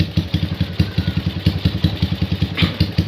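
Carbureted motorcycle engine idling steadily, a close, loud, even thumping putter with regular firing pulses and a slight mechanical clatter.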